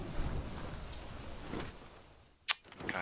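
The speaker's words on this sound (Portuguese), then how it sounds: "Ixi, tá caindo gelo agora." Rain and hail fall in the video game Don't Starve Shipwrecked, a soft steady patter that fades out before a sharp brief crack near the end, with no voices.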